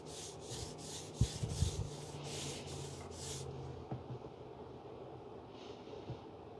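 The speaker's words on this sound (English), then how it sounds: "So you take a cloth and wipe a thin layer of wax on the ski." A cloth rubs soft paste wax onto a ski in quiet, rhythmic strokes, about eight quick swipes close by, then a fainter steady rubbing continues.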